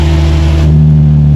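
A car engine revving hard to about 3,000 RPM with its exhaust valve open, a loud, raspy exhaust roar held at steady high revs close by.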